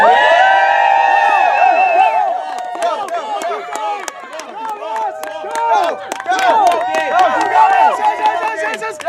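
A parade crowd cheers and whoops loudly nearby, many overlapping voices shouting encouragement, with a sung or shouted tonal passage at the start and scattered sharp claps and thuds throughout.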